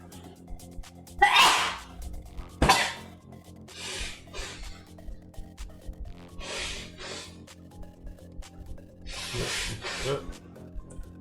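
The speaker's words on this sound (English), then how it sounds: "I'm gonna sneeze because shots." A sharp sneeze bursts out early amid quiet background murmuring, followed by a few breathy sniffs and a faint voice in a calm room.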